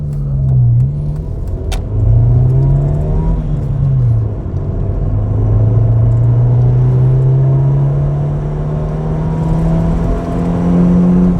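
Ford Escort engine and exhaust pulling hard uphill, a loud close droning note that rises, dips at gear changes and climbs again, with no talking over it.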